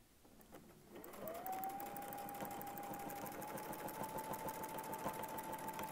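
A sewing machine stitches steadily alongside a Westalee Spin E quilting ruler, a quiet, even whirring hum running without a break after a brief start, with no voices.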